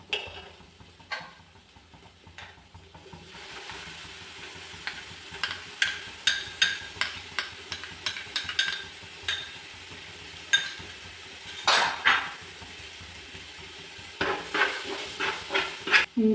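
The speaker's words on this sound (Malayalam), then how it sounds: "ഇഞ്ചിയുടെയും വെളുത്തുള്ളിയുടെയും പച്ചമുളകിൻ്റെ ഒരു പച്ചമണം മാറുന്നത് വരെ നന്നായിട്ടൊന്ന് വാട്ടിയെടുക്കണം" A paste of ginger, garlic and green chili is sautéed in a pan, giving a steady soft hiss and sizzle broken by a series of light clinks and scrapes as it is stirred.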